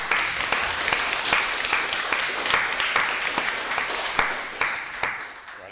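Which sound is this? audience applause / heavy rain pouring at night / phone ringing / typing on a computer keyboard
audience applause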